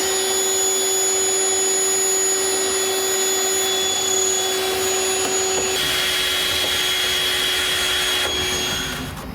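A vacuum cleaner roars steadily while sucking dryer lint from inside a clothes dryer, a loud continuous whine with a high tone, shifting pitch partway through as the nozzle moves.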